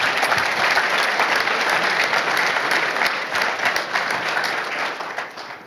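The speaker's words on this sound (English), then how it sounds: "give the CEO of Stellar Insights, Terry Sidorik, a big round of applause" Loud, steady applause from a large audience at a research showcase, many hands clapping at once, holding strong for several seconds before starting to fade.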